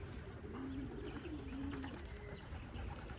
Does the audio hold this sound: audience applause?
no